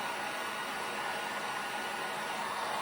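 A hot air dryer blows steadily on a small craft piece, giving a continuous, even whooshing hiss close by for the whole stretch with no talking.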